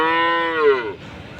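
Khillari oxen at a cattle market give a single loud, drawn-out moo that slides downward in pitch and breaks off abruptly, leaving a low murmur of market noise.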